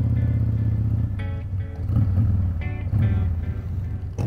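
A motorcycle on a road trip along California's Maricopa Highway idles and revs nearby, a steady low engine drone with a few rising throttle blips and no talk.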